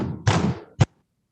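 Banging at a door, close by: one heavy rumbling thump followed a moment later by a single sharp knock, then silence, with no voices.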